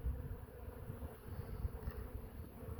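Honeybees buzz around a beehive that is infested with hive beetles, giving a steady, close, low hum with no pauses and no talking.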